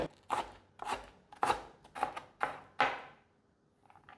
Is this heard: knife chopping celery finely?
yes